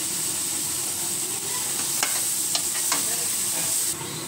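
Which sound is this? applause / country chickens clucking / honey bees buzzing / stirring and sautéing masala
stirring and sautéing masala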